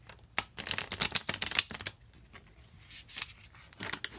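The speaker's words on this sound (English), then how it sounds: "And I'll shuffle it quite a bunch." Hands shuffling a tarot card deck, several rapid papery riffles and slaps in uneven bursts, close and fairly soft, with short pauses between rounds.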